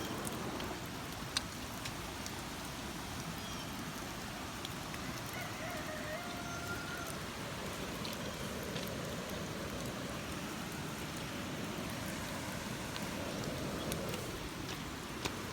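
Heavy rain falling on a rural creek-side property, a faint, steady hiss of dense rainfall with scattered drop impacts, continuous and even throughout.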